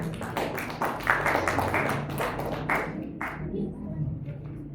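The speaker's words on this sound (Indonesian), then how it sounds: "Tepuk tangan." A quiz audience at a school competition claps together in a brief, moderately loud burst of scattered applause with some voices mixed in.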